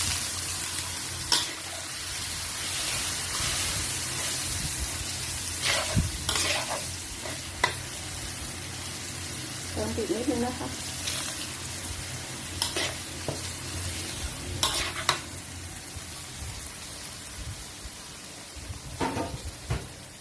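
Stir-frying for pork rad na after a splash of water goes in: a continuous close sizzle broken by repeated scraping and knocking strokes of a spatula against the pan, with no voices.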